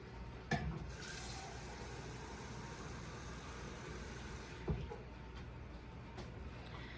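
Running tap water pours steadily into a can for several seconds, a continuous splashing rush with a couple of brief knocks, fairly close and alone.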